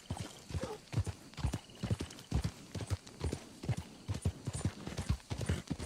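A flaxen chestnut Morgan horse in Red Dead Redemption 2 walks with rhythmic hoof clip-clops, steady paired beats close and fairly quiet, with a brief whinny in the mix.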